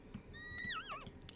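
A horse in The Sims 4 lets out a single short, high whinny that wavers down in pitch, over faint clip-clop hoof sounds in the game background.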